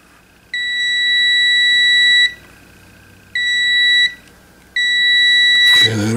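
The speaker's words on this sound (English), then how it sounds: "Now we can test with our multimeter." A multimeter on continuity mode tests the pins of an XLR audio cable under repair, giving three loud, steady electronic beeps of one to two seconds each with short gaps between, ending in a brief handling noise.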